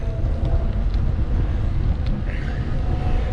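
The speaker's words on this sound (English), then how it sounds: "Little windy today" Wind gusts steadily past the microphone at a campsite in Collier-Seminole State Park, a loud, constant low rumble and buffeting throughout with no clear breaks.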